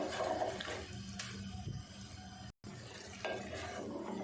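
Water splashes and swirls into a metal pot of chicken malai handi, a steady rushing pour with faint clinks, continuous for a few seconds.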